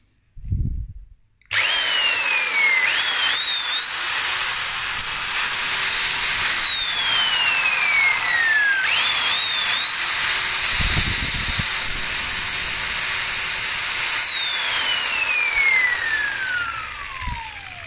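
An INGCO electric impact wrench (air-gun style bolt driver) runs loud and close after a brief click, a steady whining motor rising then winding down, then spinning up again for a second long run before tapering off.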